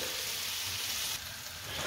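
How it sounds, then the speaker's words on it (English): Mildly spiced jalfrezi mix of peppers and onions sizzles in a hot pan as it is stirred, a loud, steady hiss of frying with no one talking. "Next we're going to add some of the jalfrezi preparation, mixed peppers, onions, mildly spiced, and just give that a good stir and a sizzle"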